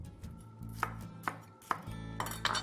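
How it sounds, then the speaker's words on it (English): A knife roughly chops vegetables on a cutting board in about six sharp, uneven thwacks, close and clear over a quiet kitchen background. "I'm just going to give it a little bit of a rough chop"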